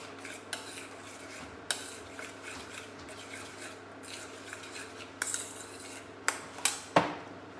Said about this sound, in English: And give this a quick stir.